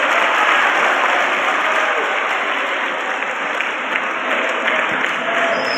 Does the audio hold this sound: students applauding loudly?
yes